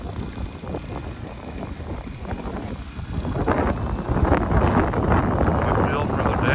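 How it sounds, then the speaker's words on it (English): Wind buffeting a moving microphone on a bicycle ride along the Han River in Seoul, a steady roaring rush that grows louder and stronger partway through. "It's quite windy out here, but a very beautiful scene."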